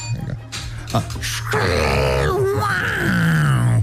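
A person's voice mimics a car taking off, starting with grunting mouth noises and building into a loud, rising, strained engine-like whine that holds steady toward the end.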